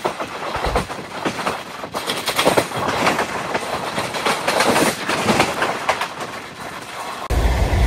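Narasapur–Nagarsol superfast express train running at cruising speed, heard from on board as a steady, loud rumble of wheels and clattering carriages that carries on throughout with no pause.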